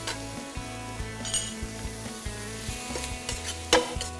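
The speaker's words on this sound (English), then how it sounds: "Keep sauteing it." Spices sautéing in a pan for a paneer quesadilla, a soft low sizzle broken by scattered clinks and the scrape of a utensil stirring, with no talking.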